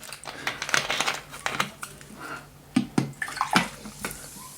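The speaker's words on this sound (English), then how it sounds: "Let me pour for you so that you know what I mean." A drink poured at a Nigerian food mukbang, with bursts of splashing and liquid clatter coming close and loud in uneven spurts across several seconds.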